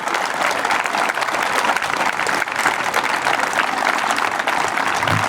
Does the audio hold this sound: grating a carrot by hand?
no